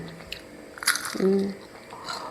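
A single loud, close crunch as a crisp fried snack, like nimki, is bitten, followed by a short chewing sound.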